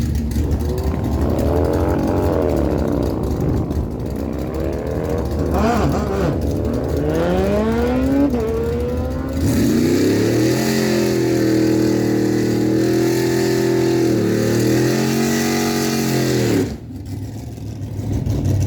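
At a drag strip meet, a 2009 Harley Davidson and a Suzuki Hayabusa rev and accelerate, their engines roaring loudly and continuously with rising pitch sweeps while a commentator talks over the noise.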